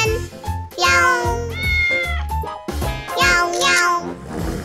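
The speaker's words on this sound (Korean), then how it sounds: "야옹야옹 아기 고양이는 야옹" A cartoonish baby kitten meows in a run of bright, rising-and-falling mews over a bouncy children's-song backing, with several meows clustered close together, loud and up front.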